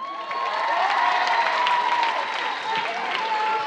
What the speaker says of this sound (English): how about a round of applause for our mayor?